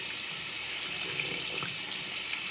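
Water runs steadily from a tap as a makeup beauty blender sponge is rinsed in a sink, a close, continuous hiss with small splashy changes and no talking.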